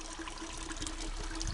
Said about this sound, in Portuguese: Esses 2 caixotes desaguam nesse filtro biológico